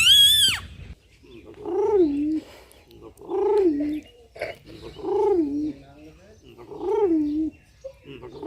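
An old man imitates a pigeon, repeating a soft, rising-and-falling throaty coo four times in a steady rhythm, close and clear, after a brief high whistle at the start.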